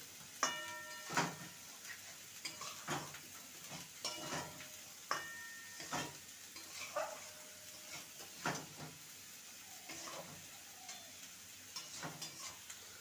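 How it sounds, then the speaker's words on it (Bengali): Fried beans and potatoes stir-fried in spice masala, a soft background sizzle broken by repeated spatula scrapes and taps against the pan at an uneven pace, close and fairly quiet, with no talking. "এবারে ভেজে রাখা শিম আর আলু দিয়ে দেবো মশলার মধ্যে ভালো করে কষিয়ে নেবো"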